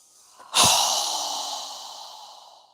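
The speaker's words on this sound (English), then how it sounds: "Strong exhale." A single forceful breath out through the nose during a yoga breathing exercise, a sudden sharp rush of air close to the microphone that fades gradually over about two seconds.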